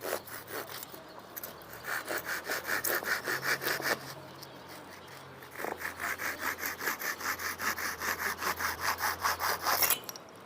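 A hand saw cuts through wood for a bird colony box in quick, rhythmic back-and-forth strokes. Two steady bouts are split by a brief pause, and the sawing is close and fairly loud with no talking.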